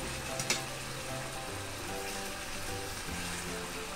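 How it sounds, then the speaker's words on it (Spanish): Wine simmering in a pot for veal fricandó, giving a faint, steady bubbling hiss with a low background hum and one brief clink near the start. "Y vamos a dejar hervir durante unos 15 minutos hasta que salga el alcohol"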